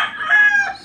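A single loud rooster crow rings out close by, one short drawn-out call with no talk over it.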